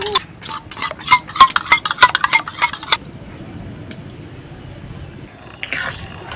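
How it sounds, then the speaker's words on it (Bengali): Sour yogurt being whisked with salt in a bowl, a quick series of clinking utensil strokes against the bowl for about three seconds, then quiet room tone with a faint rustle near the end. "টক দইটা একটু লবণ দিয়ে ভালো করে পিসিমা ফেটিয়ে দিচ্ছে"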